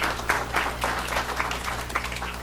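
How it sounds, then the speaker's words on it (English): An audience at a school board meeting claps in a steady round of applause, a dense patter of many hands over a low background hum, with no talking. "If we can give him a round of applause."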